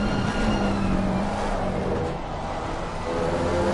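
A Porsche race car engine in Assetto Corsa Competizione drones steadily through a long right-hand corner at Snetterton, close and sustained with a continuous whine and faint tonal shifts.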